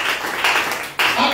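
Congregation in a church service applauding and shouting acclamations, a brief wash of clapping and cheering voices that swells, dips and surges again.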